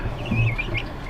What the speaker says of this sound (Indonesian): ini ayam jali namanya